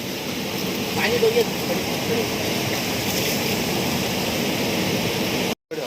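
Rushing river water churns steadily like sea waves, a loud, continuous broadband roar filling the whole stretch, with a brief dropout near the end.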